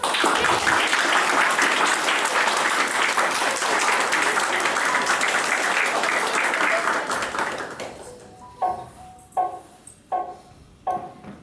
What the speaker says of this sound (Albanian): Tani dua një duartrokitje të zjarrt nga të gjithë të pranishëm.